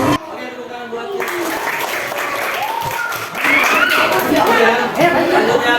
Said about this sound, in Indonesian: Oke, tepuk tangan buat kita.